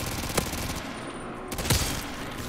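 Rapid automatic gunfire from a fast-firing weapon in Modern Warfare 3 Zombies gameplay, loud sustained bursts with sharper shot peaks, heard without talk.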